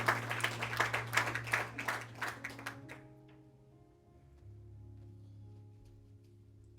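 Church congregation applause, dense clapping that stops abruptly after a few seconds, leaving a quiet low hum and faint room tone.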